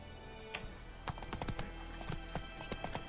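Horse hooves in The Witcher 3 video game, a run of clip-clop hoofbeats at moderate distance with a brief whinny-like tone, set against quiet game ambience.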